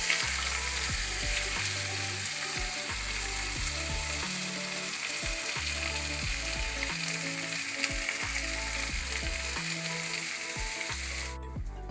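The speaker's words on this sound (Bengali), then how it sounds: "রাঁধুনি ফোড়ন দিয়ে পেঁয়াজটাকে ছেড়ে দেবো।" Chopped onions with radhuni seeds fry in hot oil, giving a steady, loud crackling sizzle throughout, with repeated rhythmic knocks and scrapes of stirring underneath and no one talking.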